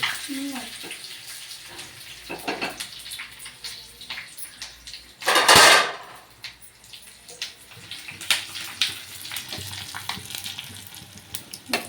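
Curry leaves dropped into hot oil burst into a loud, brief spluttering crackle midway, then settle into scattered pops and sizzling, with kitchen clatter and bits of background talk.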